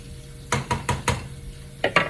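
Chicken and green beans cook down in a hot pan, with a soft sizzle beneath five quick scraping, clinking stirs of a utensil, a short pause, then two more close, sharp stirs.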